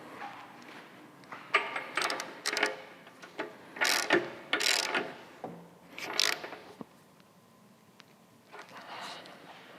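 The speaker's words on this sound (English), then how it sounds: "I'm gonna tighten the axle back down" Rear axle on a Harley Softail being tightened by hand with a ratchet, close and clear in several quick bursts of rapid clicking separated by short pauses and light metal handling.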